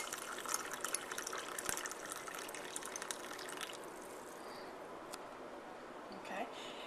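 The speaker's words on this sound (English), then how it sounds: "you're going to pour your freshly brewed coffee into your mug" Freshly brewed coffee is poured into a mug while making a white chocolate peppermint mocha: a steady liquid splash for several seconds, then it trails off into quieter drips and room tone.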